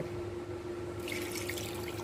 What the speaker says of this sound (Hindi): और साथ में डालेंगे 1 गिलास पानी